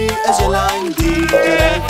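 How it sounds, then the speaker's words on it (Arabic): Sheep bleating within a children's nursery song, a loud wavering cry set over bright sung and instrumental music, repeated across the passage. "بابا يا خروف هل عندك صوف؟"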